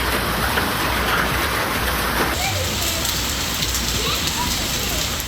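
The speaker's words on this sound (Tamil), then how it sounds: "கோவை மாவட்டம் சூழல் சுற்றுவட்டார பகுதிகளில் கொட்டி தீர்த்த கனமழையால் இதமான சூழல் உருவானது" Heavy rain with hail pours down in Coimbatore district, a dense, loud continuous hiss and patter of drops hitting surfaces, steady throughout.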